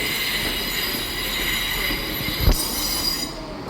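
An East Midlands Railway passenger train rolls steadily past at Manchester Piccadilly with a high, continuous wheel squeal over rumbling rails, a brief clunk midway, then the squeal fades toward the end.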